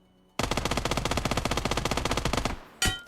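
An automatic gun fires in a video game, a loud, fast, even burst lasting about two seconds, then a short final shot after a brief pause.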